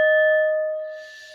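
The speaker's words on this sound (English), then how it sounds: "Let me get my little bell" A small meditation bell struck once, a clear bright ding with a sustained pure ring that slowly fades over a second or so, close and alone.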